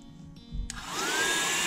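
A heat gun switches on to warm the glued bottom cover of a Times Square Ball 100th Anniversary snow globe. After a brief quiet hum, it fills the space with a loud, steady rushing blow and a thin whine.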